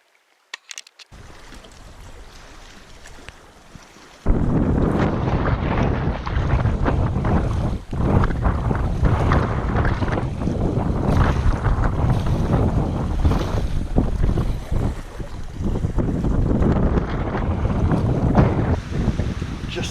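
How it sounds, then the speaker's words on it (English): Strong wind roars across an open lake near a boat at a shoreline lunch spot on a canoe trip, heavy gusty buffeting on the microphone that swells sharply after a quieter opening and stays loud. "A little bit windy."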